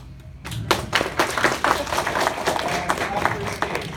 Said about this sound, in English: Clap for Snake.